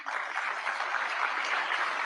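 Steady applause from an audience at a political speech by Donald Trump, sustained and evenly loud without breaks, with no voices above it.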